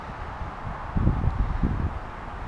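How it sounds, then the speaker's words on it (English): Breeze blows outdoors where a SYMA X5UW camera quadcopter is about to fly, heard as low rumbling wind buffeting a microphone, with stronger gusts in the middle of the clip. "it's a little bit breezy"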